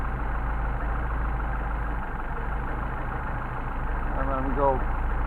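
A Mercedes 190SL engine with 44PHH Solex carburetors idles steadily and close by, a low continuous rumble with a brief rise near the end as the mixture screw is adjusted.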